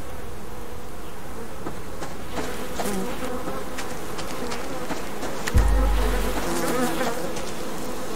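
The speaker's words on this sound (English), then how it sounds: "Come on, bees." Bees in the survival game Subsistence buzz steadily throughout, a dense insect drone with a brief louder thump near the middle and no talking.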